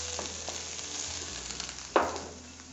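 Onions sauté in a little oil in a pan for a pureed broccoli and cauliflower soup, giving a soft steady sizzle with a couple of stirring scrapes and a sharper hiss near the end.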